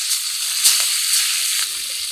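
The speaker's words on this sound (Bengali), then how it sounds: "পটল ভাজার তেলেই এবার টকের জন্য মোরলা মাছগুলোকে ভেজে নেব।" Mola fish frying in oil left over from frying pointed gourd, a close, steady sizzle and hiss that runs through the whole clip with slight swells and no voices.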